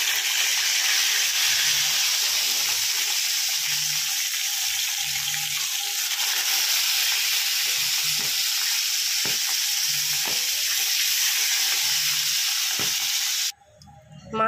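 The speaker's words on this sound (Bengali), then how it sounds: "এবার আমি মাছ ছেড়ে দিচ্ছি এক এক করে।" Hilsa fish pieces fry in hot oil for shorshe ilish, a continuous loud sizzle with faint low clatter recurring underneath, cutting off abruptly near the end.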